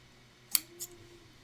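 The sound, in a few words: ribbon scissors trimming ribbon tails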